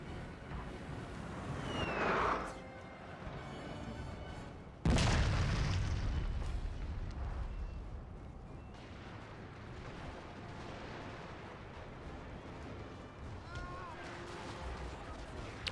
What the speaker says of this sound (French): je mets mes canons face à la brèche